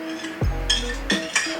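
Spoon clinking and scraping against a can of condensed milk, a few short metallic knocks and scrapes spaced out, close and moderately loud with no talking.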